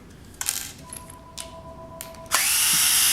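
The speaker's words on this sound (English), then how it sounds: "Go ahead and unscrew the switch." The switch of an Andis hair clipper being unscrewed: close small clicks and taps of metal and plastic, a short tonal squeak, then a sudden loud steady whir from a power tool near the end.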